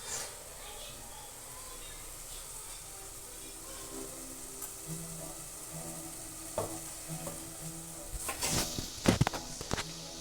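Masala spices sizzle quietly in a pan under a voice talking, with a louder burst of stirring and scraping near the end.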